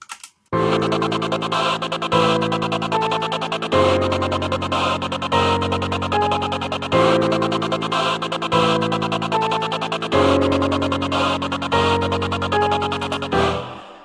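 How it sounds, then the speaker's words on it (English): A choir chord rapidly chopped on and off in a fast rhythmic stutter, loud and sustained, shifting between chords every couple of seconds. "creating a little bit of like a stuttering strobing effect by opening and closing the volume for the choir itself"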